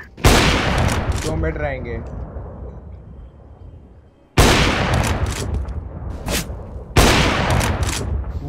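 Gunfire in Counter-Strike: Global Offensive, competitive play on Dust 2, comes as three loud, sudden volleys of rapid shots, each tailing off. Someone talks briefly between them.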